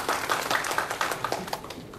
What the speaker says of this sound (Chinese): 那我们这里掌声欢迎俊泰教授。